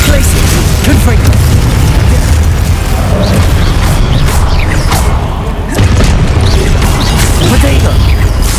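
Confringo spell explosions from the video game Hogwarts Legacy come as loud, booming blasts and crashes that follow one another with almost no gap, under heavy game effects and a voice speaking.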